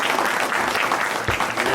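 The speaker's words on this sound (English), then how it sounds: "you can give yourselves a round of applause for doing that" Applause from a press-conference audience at an HBCU event during the NCAA Final Four: steady, dense clapping that fills the whole short stretch, loud and close, with no voices over it.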